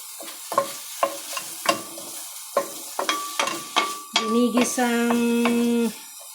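Garlic sautés in a Saladmaster pan for squid adobo, with a soft sizzle under a run of close, rhythmic stirring scrapes and utensil clinks. A sustained ringing metallic tone closes it out.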